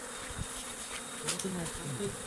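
Many bees swarm densely around a wooden beehive box at night, giving a continuous loud buzz close by with occasional individual bees passing near, and faint background noise.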